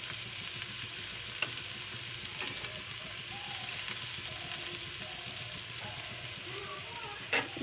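Potatoes frying in a pan, a constant even sizzle close by throughout with a couple of faint clicks from the utensil, no talking.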